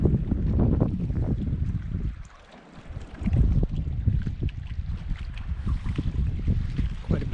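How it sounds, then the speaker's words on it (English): Gusty wind buffets the microphone at a backpacking campsite by Lorena Lake, a loud low rumble that dips briefly into a lull before surging back strongly. "Quite a bit windier this morning."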